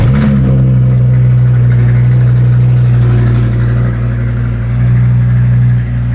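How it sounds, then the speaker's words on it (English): An Audi RS3 engine running loud on a cold start gives a dense, steady low rumble that fills the whole stretch. It sounds close and powerful, with a slight rise and fall in pitch and no voices. "Cold start, it's going to be loud."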